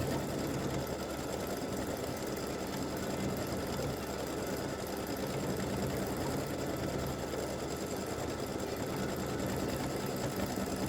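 An embroidery machine stitches a test design onto a worn-out light gray shirt, running with a steady, continuous mechanical whir and rapid needle chatter at close range for the whole stretch, with no talk.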